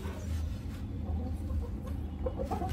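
A backyard hen that lays eggs daily clucks softly in short, scattered calls over a steady low background hum, with no talk.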